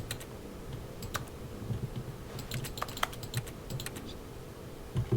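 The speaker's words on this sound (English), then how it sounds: "Why do I keep hearing a keyboard sound?" Keyboard typing in The Stanley Parable video game forms a steady patter of close, crisp keystroke clicks in uneven bursts over a faint ambient hum.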